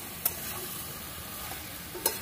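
Loitta shutki chochori, dried Bombay duck cooked with winter vegetables, sizzles steadily in a pan, with two sharp scrapes of stirring near the start and end, and no one speaking.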